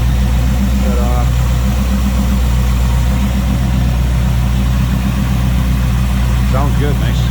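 A 1939 Oldsmobile Series 60 sedan with a 350 V8, Edelbrock carburetor and electric fan idles smoothly, a close, constant low rumble with a couple of brief vocal sounds over it.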